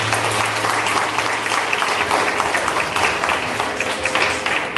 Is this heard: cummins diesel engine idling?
no